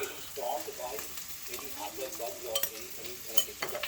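Spices stirred and roasting in a hot pan for Arachuvitta sambar, with turmeric going in: a steady soft sizzle under scraping stirs of a spoon, close and continuous.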